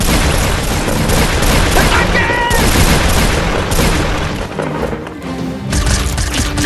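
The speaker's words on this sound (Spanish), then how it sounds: "nos disparan!" Dense gunfire crackles through a noisy live-action Fortnite-style chase scene, bursts of shots and booms layered over shouting voices and chaotic background noise, loud and close throughout.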